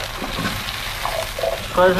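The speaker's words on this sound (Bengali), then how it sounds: "মশলা ভাজা হয়ে গেছে এবার সবজিটা দিয়ে দেওয়া হচ্ছে" Drumstick stems and potato are added to spice paste fried red in a pan for a fish curry, sizzling softly under a speaking voice, with the hiss growing louder toward the end.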